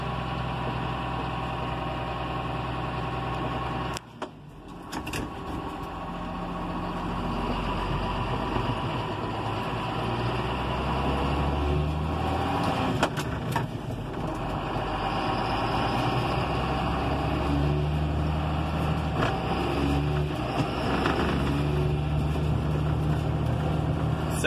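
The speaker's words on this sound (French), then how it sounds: "Le tracteur marche très bien." A John Deere 6620 Premium tractor engine runs steadily at a close, loud idle, with a constant droning hum and a slight rise in revs partway through; no talking.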